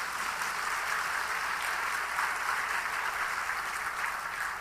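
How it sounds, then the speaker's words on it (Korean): A church congregation at a Sunday service in Haeundae applauds, a steady, even wash of many hands clapping at moderate volume for several seconds, no voices over it. "우리 한번 두 집에 한번 박수를 한번 보냅시다"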